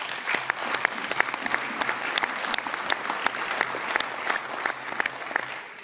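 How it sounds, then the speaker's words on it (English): Steady applause in a European Parliament committee room, dense clapping that holds level throughout before easing slightly at the end. "thank you for the applause"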